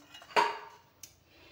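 A dish clinks sharply as boiled kohlrabi, cooked with a fish head, is moved into a bowl, followed by a fading clatter and one lighter knock a little later.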